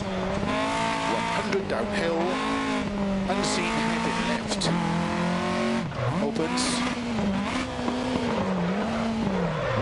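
An Opel Manta rally car in DiRT Rally 2.0 on a New England stage, its engine droning loud and steady with pitch rising and dipping through gear changes, tyre noise mixed in, and someone talking over it.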